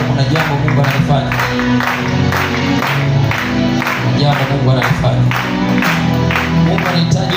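A congregation at a Swahili prayer service claps together in regular, loud beats that carry over a preacher's voice and a musical backdrop.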